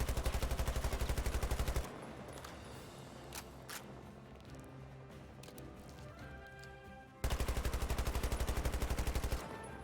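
Video game gunfire in rapid, evenly spaced bursts, loud and close, opening the clip and returning near the end, with a quieter stretch of scattered shots and game noise between the bursts.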